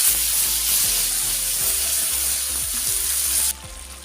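Mustard seeds with turmeric sizzle and crackle in hot oil in a pan on a gas stove, a steady close frying hiss with light popping that drops off abruptly near the end.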